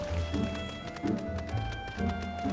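Rhythmic horse hoofbeats in Final Fantasy XIV clop steadily at a trotting pace over a quiet tonal background hum, close and moderately loud.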